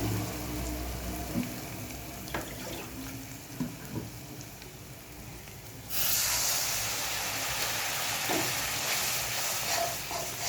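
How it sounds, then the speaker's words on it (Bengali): Spice paste (masala) frying in a pan with a little water added, a steady sizzling hiss with occasional stirring scrapes that bursts into louder, brighter spitting partway through. "এর মধ্যে একটু জল দিয়ে ভালো করে মশলাটাকে আমি কষিয়ে নেব"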